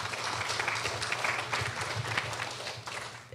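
A church congregation claps together during a Sunday service, steady and moderately loud applause that fills the room for a few seconds.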